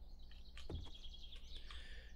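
Birds chirp in the 7 Days to Die video game, thin high calls scattered over about two seconds above a steady low ambient hum, faint and somewhat distant, with no talking.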